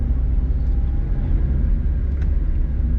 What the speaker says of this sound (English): I do like the sound of the stock exhaust